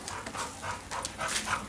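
Frame shop dog breathing hard after killing a rat, quick panting breaths with faint whimpers, close and fairly quiet, no voices over it.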